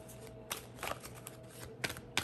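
Tarot cards are shuffled in quick, soft riffling bursts close to the microphone, several short flurries in a row in a quiet room.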